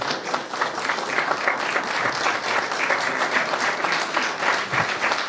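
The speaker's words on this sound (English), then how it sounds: "Clap it up for them." Dense, steady applause from an audience at a founder hackathon event in Hamburg, many hands clapping continuously at close range with a faint cheer near the end.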